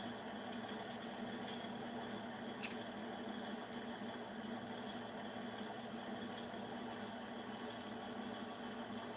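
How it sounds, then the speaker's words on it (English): Faint, steady drone of a 450 horsepower articulated power-shift tractor idling in Farming Simulator 2019, a constant low hum with its cooling fan running and no changes in pitch. "You can actually see the engine, the fan running."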